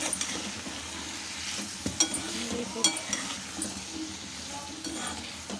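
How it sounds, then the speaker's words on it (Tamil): Potatoes with turmeric and salt fry in a pan over a medium flame, a steady sizzle broken by a few sharp clinks of a utensil stirring against the pan. "உருளைக்கிழங்கு நல்லா ஃப்ரை ஆகிடுது."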